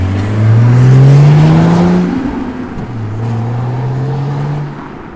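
A Toyota A91 Supra fitted with an XFORCE exhaust revs up with a loud, rising engine note, eases off briefly, then holds a steady, slightly climbing drone, heard close without talk.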